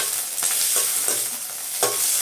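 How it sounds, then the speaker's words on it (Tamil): Pirandai sautés in hot oil left over from fried lentils, making a loud, continuous sizzle with a few quick scraping stirs of a spoon through the pan. "இதை நல்லா வதக்கணும்"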